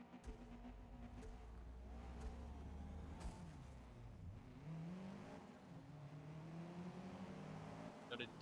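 A race car launches off the start line in the Forza Motorsport video game, its engine note droning and rising steadily under a faint game soundscape, loud and continuous throughout.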